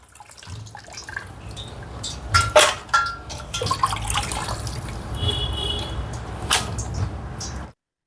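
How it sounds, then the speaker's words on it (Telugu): Water splashes and drips steadily as it drains from sliced potatoes through a colander, with a few louder splashes early on and a continuous trickle throughout. "ఒక చిల్లులు గిన్నె తీసుకొని మనం ఈ చాప్ చేసిన ఈ అన్ని నీళ్లు లేకుండా వార్చుకుందాం"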